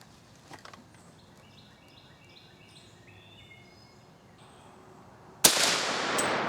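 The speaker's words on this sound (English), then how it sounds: "I'm going to shoot at that wet newspaper." A single sharp M1 Carbine shot rings out toward the end, fired outdoors at a wet newspaper, loud and close with a lingering roll afterward, following a quiet stretch of birdsong and insect chirps.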